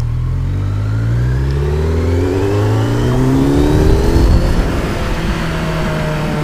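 A car accelerates along a city avenue, its engine revving up steadily with a rising pitch, loud and close, with no talk.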